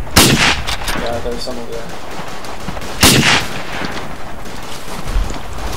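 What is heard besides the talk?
rifle gunfire in the video game Verdun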